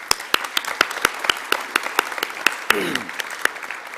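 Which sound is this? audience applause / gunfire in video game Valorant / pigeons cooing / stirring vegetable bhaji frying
audience applause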